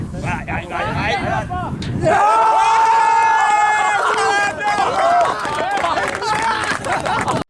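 A Sunday league football crowd erupts into a loud, sustained roar after a goal, with voices and chanting swelling together and holding for several seconds.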